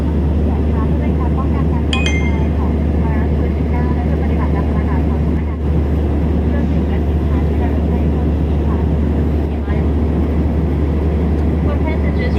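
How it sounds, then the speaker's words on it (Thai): Passenger airplane cabin in flight on a domestic route to Khon Kaen, a steady loud low engine drone filling the whole stretch with faint murmuring voices underneath. "เครื่องบินต้องบินวนนะครับ ความเร็วที่ใช้เดินทางก็น่าจะประมาณ 500ถึง600 กิโลเมตรต่อชั่วโมงนะ"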